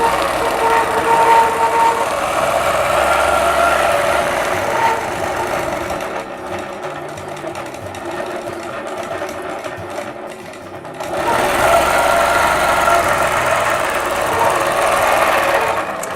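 A sewing machine stitches free-motion quilting in curved cross-hatching, its motor whirring in a steady, fast rhythmic patter that pauses briefly midway before resuming at the same loud, close level.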